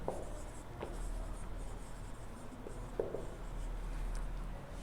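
Equation being written by hand on a board during a sphere geometry lecture: quiet, irregular scratching strokes with a few sharper taps, close and faint, with no talk.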